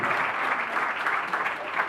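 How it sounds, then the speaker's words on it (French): Guests at a civil wedding ceremony in a registry office break into clapping, a short, continuous burst of applause heard up close without any talk over it. "Applaudissons pour sa voiture."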